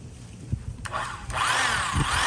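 A restored 1970s Craftsman drill, model 315.11360, starts up and runs steadily with a rising whine, close and fairly loud, with no talk.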